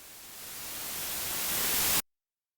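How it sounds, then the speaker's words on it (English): Synthesizer white-noise oscillator rising as a reversed sweep, a hiss that swells steadily louder for about two seconds and then cuts off abruptly into silence. "Like that white noise oscillator is just fading in"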